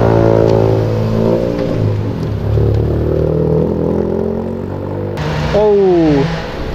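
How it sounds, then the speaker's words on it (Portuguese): A Chevrolet Camaro fitted with nitro accelerates outside an event, its engine roaring loud and close with rising revs and a sharp climbing whine near the end. "Aquele Camaro Nitro é muito forte, velho."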